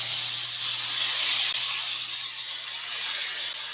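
Skewers on a small grill pan sizzle steadily while being basted, a loud, continuous broadband hiss with a low steady hum underneath and no talking.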